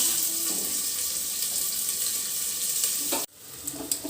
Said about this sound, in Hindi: प्याज भून गई है